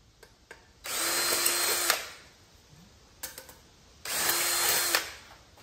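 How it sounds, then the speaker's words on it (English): A power drill bores into soft aluminum butterfly vents in two loud, steady whirring bursts of about a second each, with light clicks and handling knocks between them and no talk. "these butterfly vents will probably have to be drilled out just a little bit too"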